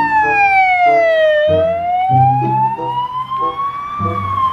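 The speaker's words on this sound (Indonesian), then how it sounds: "Ada mobil ambulans." A toy ambulance siren wails in a steady, rising and falling electronic tone, loud and close, with a busy backing jingle underneath.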